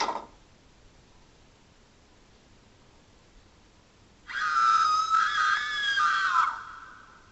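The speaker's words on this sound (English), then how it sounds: "it's a girl because you hear girl screams" A girl's long, shrill scream comes from the horror video game There's Nobody, bursting loudly out of near silence and holding for about two seconds before cutting off.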